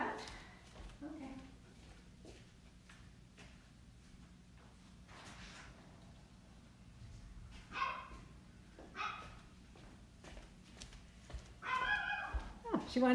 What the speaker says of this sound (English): she wanted to go out so she can bark.